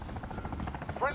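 Chopper gunner firing in Call of Duty: Modern Warfare during a Kill Confirmed match, a fast rattling burst of gunfire over a rotor drone, with a voice talking over it.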